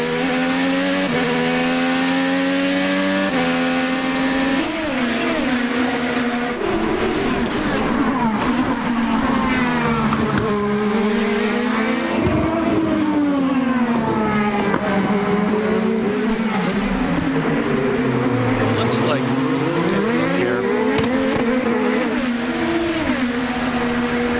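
IndyCar race cars at the 2012 Long Beach street race roar past continuously, engines revving and shifting pitch as they accelerate and brake through the circuit, loud and close throughout with no talk.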